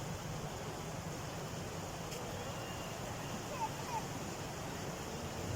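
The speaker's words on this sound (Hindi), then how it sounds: "यहाँ देखिए पूसा पुल में कितना ज़्यादा पानी हो गया है।" Flood water rushing past Pusa bridge in Samastipur, Bihar, a steady broadband roar of fast-flowing water heard up close and continuous, with no talk over it.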